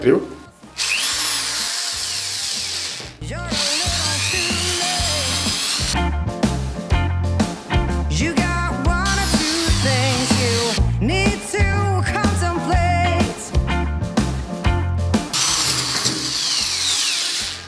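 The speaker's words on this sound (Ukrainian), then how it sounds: "Так, тепер попробуємо, як працює зі сверлом 10 мм." A Grand cordless drill-driver bores with a 10 mm bit, its motor whirring loudly in repeated bursts that rise and fall as the trigger is squeezed and released, close to the listener, with no speech over it.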